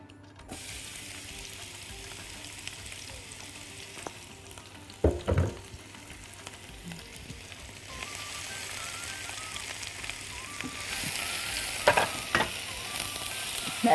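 Onions fry in hot oil with a continuous crackling sizzle that grows louder over time, joined by occasional sharp clanks and scrapes from a utensil stirring them in the pan.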